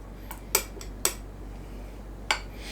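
Utensils knock against a plate or bowl while Hainanese chicken rice is mixed, three or four sharp isolated clinks spaced apart over quiet room tone, no talking.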